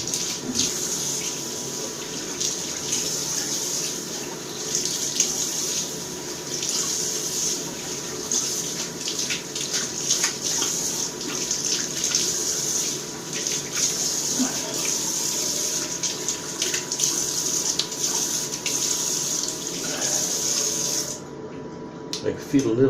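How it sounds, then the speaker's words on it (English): Tap water running steadily into a sink while a face is rinsed after shaving, a constant close rush with occasional splashes and hand-scooping sounds, a voice speaking briefly over it. "Now we're going to rinse off the face and the shave."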